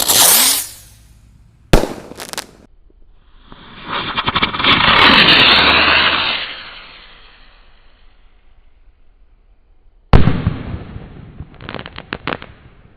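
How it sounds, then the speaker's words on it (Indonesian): A red Sky Cruiser firework whooshes up with a rising hiss at night, then bursts with a loud bang and crackling, followed by more sharp pops and crackles. "Ini meledosnya seperti Roman Candle ya, terbang dulu."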